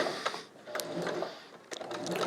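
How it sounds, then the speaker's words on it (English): A sewing machine stitches a spandex mask, running forward and backward for a bar tack, in short quiet bursts of whirring with brief pauses, alone and close. "One key when you're sewing spandex, I just went forward and backward to give it a little bar tack."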